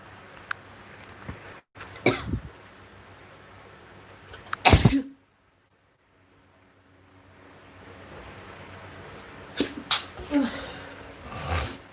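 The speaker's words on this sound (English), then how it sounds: "It's something making me sneeze." A person sneezes and coughs while cooking at home with ginger: several sharp, loud bursts at close range, separated by quiet gaps and faint background noise.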